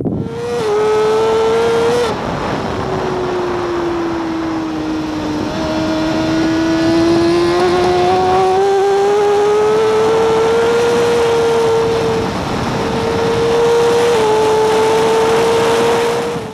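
A racing motorcycle on the Portimao circuit climbs through the gears and accelerates down the main straight past 300 km/h. Its engine note is loud and steady, rising in pitch with each gear, and there is a brief dip around a shift partway through.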